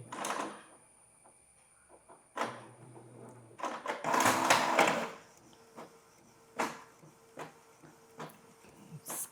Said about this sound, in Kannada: ಕಾಪಿ ಆಗ್ತಾಯಿದೆ ಕಲರ್ ಪ್ರಿಂಟ್ ಬಂದು ನಮಗೆ ಸ್ವಲ್ಪ ಸ್ಲೋನೇ ನೋಡಿ ಬಂತು